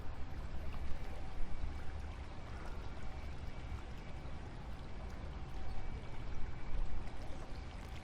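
Steady broadband rush of creek water flowing continuously, close and fairly loud, with no talking.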